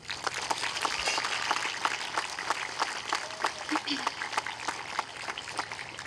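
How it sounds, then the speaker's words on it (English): Audience applause at a military institute commencement ceremony, moderate and steady with distinct individual claps, heard from a distance across a large crowd. "Please give them all a round of applause."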